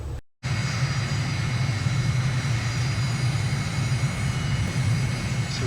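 In Microsoft Flight Simulator, a small aircraft at Belp Airport near Bern runs its engine in a steady, loud drone with a low rumbling hum. The drone holds constant after a brief cut near the start.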